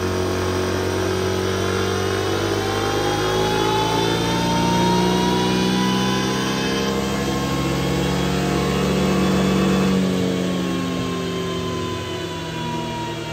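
A close engine revs under throttle, its pitch rising and falling in long sustained sweeps over a loud, continuous drone with no talk.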